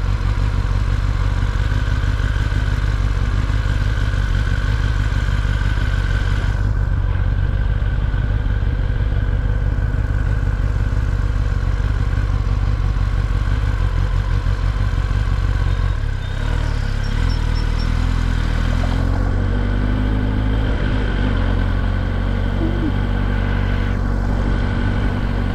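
A 2021 Kawasaki ZX-10R motorcycle being ridden, its engine droning steadily and loudly under heavy wind rush throughout, with a slight shift in tone midway as it slows.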